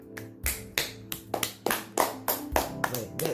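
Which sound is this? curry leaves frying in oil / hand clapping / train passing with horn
hand clapping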